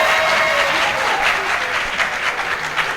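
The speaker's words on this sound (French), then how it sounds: "Et applaudissez, on a trouvé Rika." Audience applause on a French TV show, loud and steady crowd clapping filling the whole moment, with a faint background tone beneath it.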